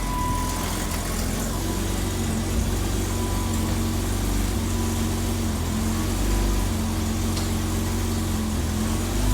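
A BMW E30 325iX car engine runs steadily at idle with a low, throaty exhaust rumble, close and continuous with no talking.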